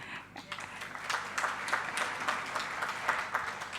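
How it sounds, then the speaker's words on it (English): An audience at a book launch claps steadily, moderate and slightly distant, a continuous patter of many hands over a few seconds. "A round of applause."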